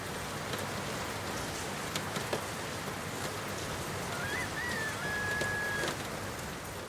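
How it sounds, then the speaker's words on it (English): Steady rain falling outdoors, a dense even hiss of drops on surfaces at moderate level, continuous throughout with no talking and a faint thin whistle-like tone briefly riding on top. "it is raining"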